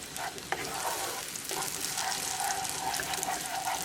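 Eggs for lobster scrambled eggs fry over medium heat and are stirred in a pan. A continuous bubbly sizzle is broken by a couple of utensil scrapes and knocks, with no voices.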